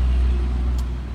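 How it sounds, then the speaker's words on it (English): A truck passing on a nearby road outside during winter yard work, a steady low rumble that holds loud throughout and eases slightly near the end, with no talk over it. "I'm going to let that truck drive by."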